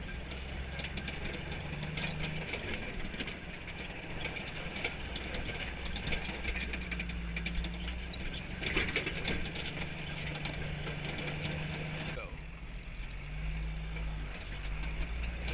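A Jeep engine runs steadily throughout, with a low droning hum and mechanical rattles and clunks as it bounces over rough canyon ground.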